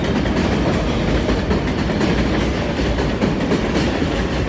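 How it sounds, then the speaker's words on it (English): A train passing through the city rumbles loudly and steadily with rhythmic clickety-clack from the rails, close by and continuous throughout, with no talk over it. "God damn, this fucking train,"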